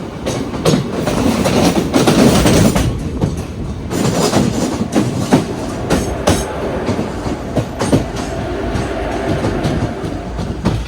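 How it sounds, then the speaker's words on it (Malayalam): A goods train rolls past on a railway line near Palakkad, with a steady loud rumble of wagons and repeated clickety-clack wheel beats that fade slightly toward the end, with no voices. "ഇതേപോലെ ഗുഡ്സ് ട്രെയിൻ കാണാൻ പറ്റും"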